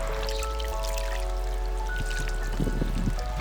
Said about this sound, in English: This last hot soak we're going to be pouring over towels